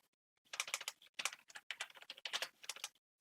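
Quick bursts of keystrokes on a computer keyboard, close and clear, rattling out in short groups with brief pauses between them and no voice over the top.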